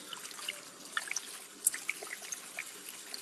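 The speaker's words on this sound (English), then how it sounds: "want to frequently give your knife a rinse" Water from a tap trickles and splashes while an oyster knife is rinsed during oyster shucking, a steady faint flow broken by small irregular drips and spatters, with no voices.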